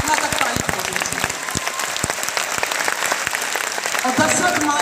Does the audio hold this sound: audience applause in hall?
yes